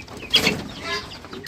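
Desi chickens clucking on a farm, a few short clucks and a rooster's call close by, brief and clear with no talk.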